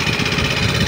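A Honda Choi Nori motor scooter idles after an engine refresh with a metal cam, a loud, close, steady mechanical drone with no talking.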